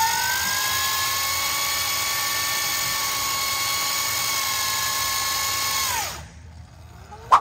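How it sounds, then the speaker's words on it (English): A 72-volt Surron electric bike doing a burnout with the throttle held wide open, a loud, high, steady motor whine with layered harmonic tones that winds down sharply near the end, then a brief thump. "If you do find yourself on a 72-volt Surron and you're not ready to wheelie it, do a burnout."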